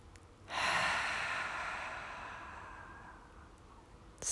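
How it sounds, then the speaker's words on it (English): Deep yoga inhale through the nose during a flow class, a single long airy breath swelling in after a short pause and slowly tapering over several seconds, close and alone with no talking. "Take a deeper inhale."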